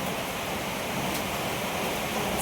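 Heavy windy rain pours steadily on a farm, a dense, even hiss with no let-up and no voices.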